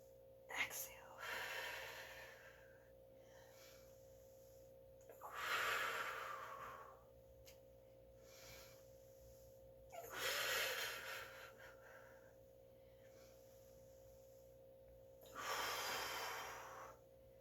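Rhythmic breathing during a full-body Pilates workout: four strong inhale-exhale bursts come roughly every five seconds, near and breathy, with faint hiss between them and no talk.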